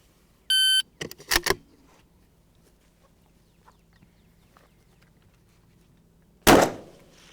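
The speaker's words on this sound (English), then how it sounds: "Your time will start at the beep" An electronic shot timer gives a single short, clear beep to start a 500-yard long-range rifle challenge at a ranch, followed by a few sharp cracks and, after a quiet stretch, another loud report.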